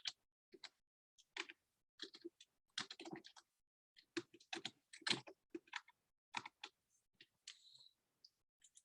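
Typing on a computer keyboard while editing a Wikipedia page, heard as close, quiet, irregular key clicks in short bursts and pauses.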